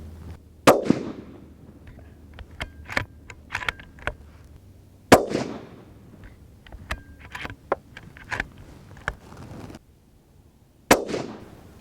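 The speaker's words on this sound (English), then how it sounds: "let's put some bullets through it" A Remington 783 laminate rifle fires a series of sharp, loud gunshots at a target 85 meters away, spaced several seconds apart with quieter handling clicks between them, outdoors.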